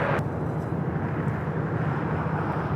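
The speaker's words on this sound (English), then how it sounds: "a special livery, Surf City Avianca A320. It's coming in from Guatemala City" An Avianca Airbus A320 in special livery arrives at Los Angeles International Airport, a broad steady jet roar rumbling continuously and fairly loud throughout, with no talk over it.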